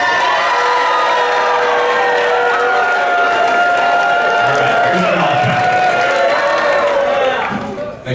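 A school audience at a marching band concert cheering and whooping loudly for a band member, a dense sustained roar of shouts and applause that fades out near the end.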